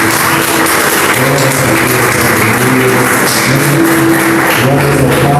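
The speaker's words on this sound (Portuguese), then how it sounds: "Uma salva de palmas para Deus." A church congregation applauds together, a dense, steady wash of clapping mixed with music, with sustained tones running underneath throughout.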